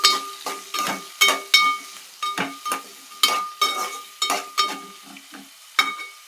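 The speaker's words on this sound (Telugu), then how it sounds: "ఉల్లిపాయ పచ్చిమిరపకాయ వేగిందాక వేయించుకుందాం." Onion and green chillies frying in a pan for a broad bean and tomato curry, heard as repeated scraping stirring strokes with short sizzling bursts and a metallic ring, close and distinct, no voices.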